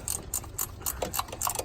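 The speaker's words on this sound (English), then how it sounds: "get to these bolts right here, using a curved gear wrench" Quick, crisp clicking from a curved gear wrench ratcheting on bolts of a GM 3.1/3.4/3.5-liter engine, a rapid series of close metallic ticks in even strokes.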